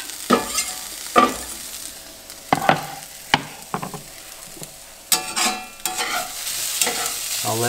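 Onions fry alongside browned potatoes in a cast iron pan on a small stove. A close, steady sizzle is punctuated by repeated sharp scrapes and knocks of a utensil stirring and turning the food.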